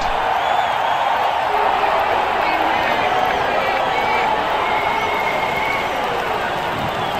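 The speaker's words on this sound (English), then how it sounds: "greeted with a loud cheer from the crowd" A big cricket crowd at an India vs Pakistan match in the video game Real Cricket 20 roars and cheers continuously in the distance as the openers come out, a broad steady wash of voices with some whistles rising above.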